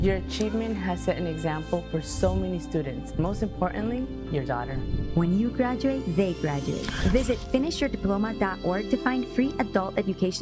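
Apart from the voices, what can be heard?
No everyday noise stands out behind the speech.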